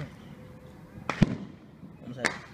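Fireworks going off close to a house at night: two sharp, loud bangs in quick succession, then a third about a second later, over a steady background rumble with faint voices nearby.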